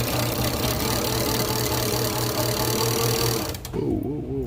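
Line being spooled onto a Penn 6/0 fishing reel with 100lb braid, a fast, steady mechanical whir that is close and loud, cutting off abruptly near the end.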